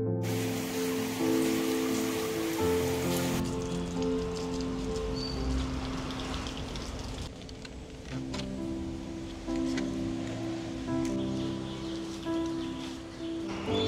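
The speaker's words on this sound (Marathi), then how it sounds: "सध्या पाऊस थोडा पडतोय" Light morning rain patters steadily on surfaces and leaves outdoors, a soft, even hiss with scattered drips and faint birds in the background.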